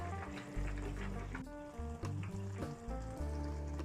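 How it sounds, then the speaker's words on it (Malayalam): Okra curry bubbles at a boil in a pot, a faint, steady simmering with soft pops and gurgles and no speech. "നമ്മുടെ കറി നന്നായി തിളച്ച് വന്നിട്ടുണ്ട്."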